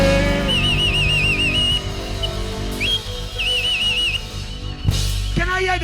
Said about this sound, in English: The whistling, the clapping.